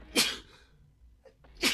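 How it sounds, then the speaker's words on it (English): Two sharp sneezes from a person with a cold burst out close and loud, separated by a quiet intake of breath. "I feel like I'm going to sneeze."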